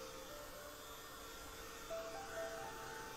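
A hair dryer blows on a watercolor painting to dry it, giving a steady, fairly quiet whooshing roar that holds constant for the whole stretch, with no talking.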